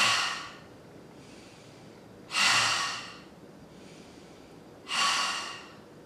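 Three loud, deep exhalations during a yoga plank hold, each a broad whooshing burst about two and a half seconds apart, with softer inhales between them and no talking.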